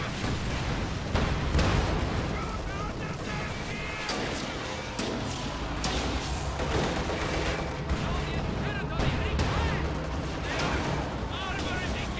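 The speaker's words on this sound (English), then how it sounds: "Incendiary artillery just got dropped." An incendiary artillery barrage in Company of Heroes, a dense continuous roar of blasts and gunfire with layered explosions throughout, loud and unbroken, with a voice talking over it.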